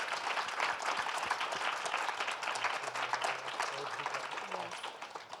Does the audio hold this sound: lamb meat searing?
no